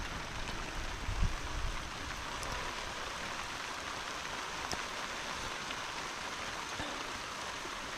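Steady outdoor rain falls around an open rice field, a continuous soft hiss with a few faint drips and a brief low knock, no talk.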